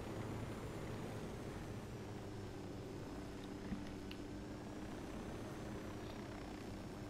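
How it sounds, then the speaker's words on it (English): Helicopter in Ghost Recon Wildlands, a steady low rotor and engine drone holding at a constant, fairly faint level throughout, with no talk over it. "It's a helicopter moving."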